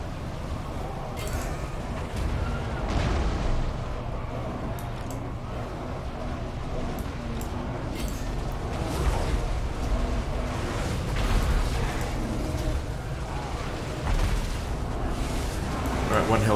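Artillery barrages and hell cannon fire in a Total War: Warhammer Norsca battle: repeated booms and rumbling impacts across a dense, continuous battle din, with someone talking over it.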